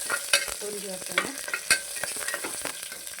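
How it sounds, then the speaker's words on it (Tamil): Crushed garlic and curry leaves frying in hot oil, a crackling, popping sizzle with bursts of spattering and stirring, close and fairly quiet, no voices. "நசுக்கி வச்சுருக்கிற பூண்டு, கருவேப்பிலை நல்லா வந்து பொரிஞ்சு வரட்டுங்க"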